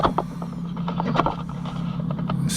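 Balancing medium shifting and rattling inside ring-style wheel balancers being handled on a 2020 Ram 5500 truck hub, giving a steady mechanical rattle with scattered sharp clicks and clinks, close and moderately loud, no talking.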